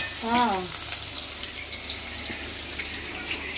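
Hot oil for a tadka crackles and sizzles steadily over a background hiss while green chili thecha is being prepared, with a short voiced sound near the start and no clear speech.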